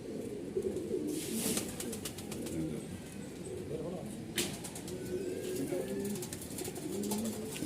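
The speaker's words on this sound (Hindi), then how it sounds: "ये एक सुरमई लाल कबूतरी है।" Soft, low pigeon coos repeat through the clip beside occasional wing flutters and rustling, with a steady murmur of background noise; the birds include a grey-red hen pigeon.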